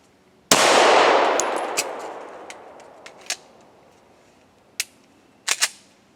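A pistol fitted with a micro red dot fires during a timed shooting drill: one loud shot rings out with a long decaying echo, then a few sharp metallic clicks and clatters from reloading, and two quick reports close together near the end.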